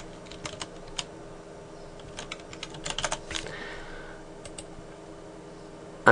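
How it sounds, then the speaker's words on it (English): Computer keyboard keys tapped in scattered clicks, including a press of the numpad Enter key, with brief flurries of typing and pauses between them, close and clear in a quiet room. "I'm going to press enter on the numpad and call this numpad enter."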